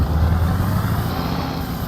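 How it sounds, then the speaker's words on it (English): Low rumbling engine of a ground vehicle approaching in a military shooter game on the map Anvil, a steady drone that holds evenly loud throughout with no talk over it. "I hear a vehicle coming."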